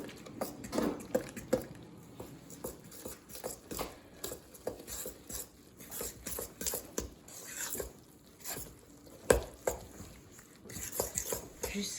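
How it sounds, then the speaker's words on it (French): A fork stirs flour and cold water in a bowl for bread dough, producing soft, irregular tapping and scraping clicks against the bowl, close and quiet, with no talking. "On a la fourchette et on mélange."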